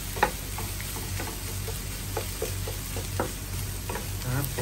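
Egg fries in hot oil in a pan for pancit canton, a steady soft sizzle under scattered light scraping and tapping taps of a utensil stirring it, close and fairly quiet.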